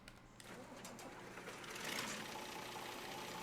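A C21 tractor engine in Farming Simulator 25 idles with a low steady rumble, rising slightly in intensity partway through and holding a continuous drone, fairly quiet with no talk.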